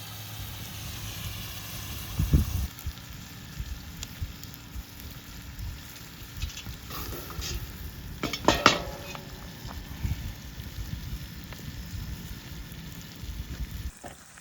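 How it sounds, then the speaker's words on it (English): Pork roast sizzles steadily in a cast-iron Dutch oven over a campfire, a soft continuous frying hiss broken by a few metallic clanks of utensils against the pot, with no talking. "that's gonna sear on all sides for about 3 or 4 or 5 minutes aside"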